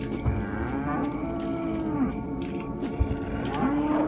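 Cows in the video game Edge of Hearts give long, drawn-out moos, one after another, loud and near over a steady low background.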